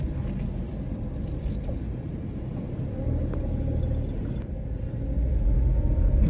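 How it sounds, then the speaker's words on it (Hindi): A car moves slowly backward along a street, heard from inside as a steady, close low engine and road rumble that swells slightly toward the end, with no talk. "तो गाड़ी हमने रिवर्स कर ली है"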